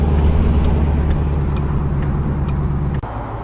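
A 2016 Ford Mustang GT Fastback with its engine running, a loud, steady low rumble held close throughout with a slight dip near the end.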